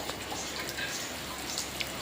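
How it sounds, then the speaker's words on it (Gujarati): Light, slowed rain patters steadily on a rural Gujarat homestead after a long dry spell, runoff still trickling into a water tank; a soft, even hiss with faint scattered drops, no voices, unbroken for two seconds. "વરસાદ ધીમો પડી ગયો છે"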